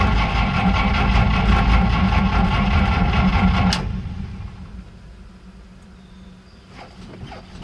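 A 1950 Oldsmobile engine cranks on a failed cold start with an empty sediment bowl, a loud steady churning for nearly four seconds that then stops, leaving faint clicks and quiet background.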